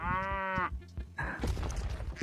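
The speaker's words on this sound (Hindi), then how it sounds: "Oh, हमारी प्यारी गैया." In a 3D animal slide video game, a cow lets out one loud, drawn-out moo up close, followed by clattering game sounds and noisy activity.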